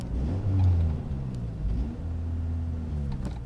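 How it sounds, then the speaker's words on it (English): A 1990 Nissan Axxess with badly worn front tires doing a burnout, a steady close engine drone with low rumble and slight revving swells, heard alone without talk. "Here we go, burnout."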